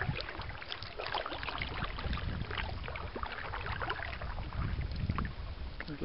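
Paddle strokes of a canoe on a long, narrow lake, with soft repeated splashes and dips in the water. They sit over a steady wash of wind and water, with no talking.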